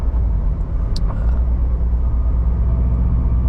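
A 2018 Subaru WRX STI fitted with a Cobb exhaust cruises in sixth gear, its engine a steady, loud low rumble heard from inside the cabin with no pauses.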